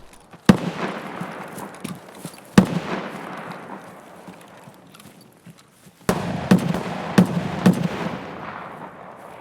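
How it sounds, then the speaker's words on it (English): SVD sniper rifle shots in the Escape from Tarkov video game, sharp loud cracks with long rolling echoes: single shots spaced apart, then a quicker run of four or five. "That's not good, that's an SVD."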